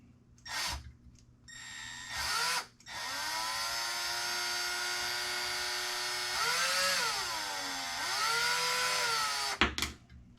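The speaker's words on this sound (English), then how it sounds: "using the power tools, you want to be easy on the trigger where you're not stripping anything." Cordless power tool driving screws into a Traxxas 1/16 Revo RC car, whirring steadily for several seconds with rising and falling pitch as the trigger is eased, after a couple of short bursts, close and loud with no talk.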